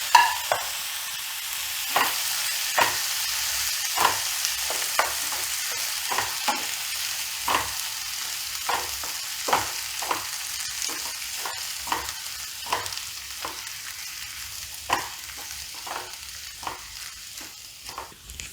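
Capsicum sautés in a pan for masala pav with a soft, continuous sizzle, broken by regular scrapes of a spatula stirring close by, with no talking.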